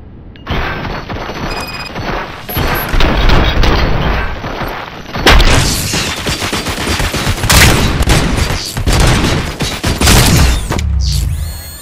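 Heavy gunfire in the video game RoboCop: Rogue City: a dense, loud stretch of overlapping shots and booming impacts runs almost without a break, with crashes and mechanical clatter mixed in and no clear talk.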